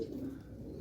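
A pigeon gives a brief, low, soft coo close by in a quiet setting.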